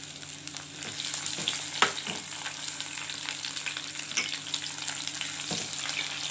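Chopped potatoes, tomatoes, capsicum, carrots and other vegetables frying in a pan for a dry mixed vegetable dish, giving a steady close sizzle with scattered crackles and occasional stirring scrapes, no talk.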